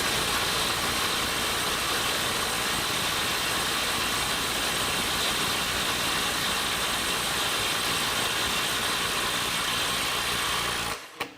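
Milwaukee M12 FUEL Stubby 2554 impact wrench loosening a fastener at 250 ft-lb: a continuous loud, rattling hammering whir held steadily for about eleven seconds, close, then cutting off abruptly.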